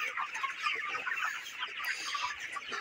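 A shed of 30-day-old broiler chickens cluck and chatter continuously, many overlapping birds at moderate distance forming a busy, steady flock murmur.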